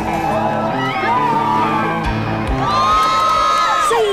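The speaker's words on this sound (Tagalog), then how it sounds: "Sa hiyawan, dinaan ng mga manonood ang kanilang suporta sa mga kalahok ng balsa race." Beachside spectators at Matabungkay Beach during the Balsa Festival raft race cheer, whoop and shout loudly, children's high yells rising above a dense, continuous crowd roar.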